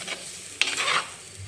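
Tomato egg masala gravy frying in a pan for a tamarind egg curry, a soft, quiet sizzle with a brief stirring scrape near the middle.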